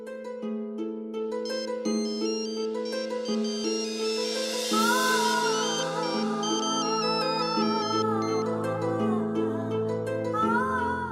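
A phone rings unanswered after a call is placed, sounding a melodic ringtone with repeated tonal phrases that carry on steadily with no one picking up.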